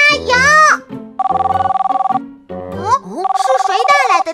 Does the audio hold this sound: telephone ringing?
yes